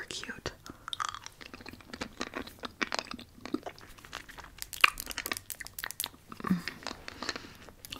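Close, crisp crunching and chewing of caffeinated cappuccino-flavoured treats from Thailand, with irregular bites and mouth sounds in quick succession, soft whispering mixed in.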